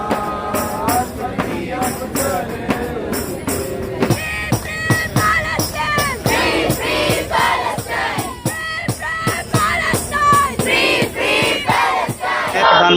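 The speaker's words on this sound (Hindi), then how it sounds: "प्रधानमंत्री नरेंद्र मोदी मुर्दाबाद भी के नारे लग रहे हैं।" A crowd chants protest slogans against Prime Minister Narendra Modi at a rally over the Israel-Palestine war, loud rhythmic shouting in unison from many voices, with repeated call-and-response bursts throughout.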